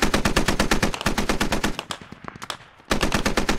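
Rapid automatic gunfire from the multiplayer shooter Squad rattles in loud, evenly spaced bursts, breaks briefly into scattered distant shots, then resumes at full volume.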